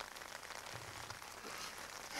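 Steady rain patters on a surface, a quiet continuous hiss with no voices.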